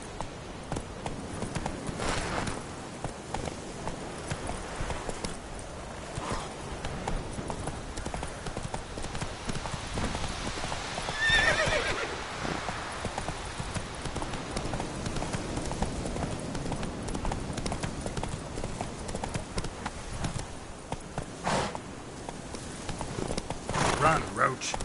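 Geralt's horse Roach pounds along at speed in The Witcher 3, with a continuous rhythmic drumming of hoofbeats that stays close and steady throughout, mixed with some game ambience.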